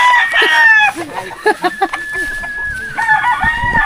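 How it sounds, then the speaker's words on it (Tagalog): Several roosters and chickens crow loudly nearby in a village on Burias Island in the Philippines, with long drawn-out calls overlapping and clucking between them. "Daming manok ay."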